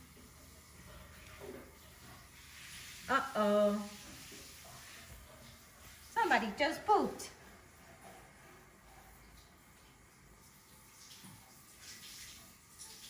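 A shower hisses steadily in a bathroom where pet monkeys share the spray with a family, staying as a faint wash under two short bursts of talk.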